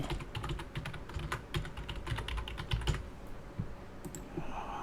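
Fingers tap out an email address on a computer keyboard in quick, steady keystrokes close to the mic, slowing and thinning toward the end with no talking.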